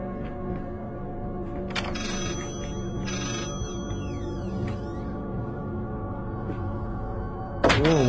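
A telephone rings in a horror video game, a faint electronic tone under a low droning ambience, with a few sharp thuds and clicks breaking in.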